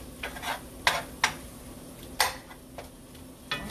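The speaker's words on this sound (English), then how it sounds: "I'm gonna stir that and let it burn and let it get brown." Onions and garlic being stirred in gravy in a pan, with a few sharp scraping clinks of the utensil against the pan over a soft bubbling hiss, and no voices.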